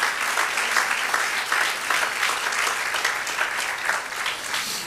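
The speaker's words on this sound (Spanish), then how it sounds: "Vamos a aplaudirle con todas nuestras fuerzas" A church congregation applauds together, a dense, sustained wash of clapping that stays steady and loud throughout with no voices on top.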